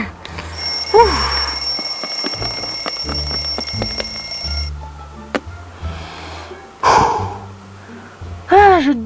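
An alarm clock rings loudly and steadily for several seconds, then stops, followed by a gasp, a sigh and brief vocal sounds nearby.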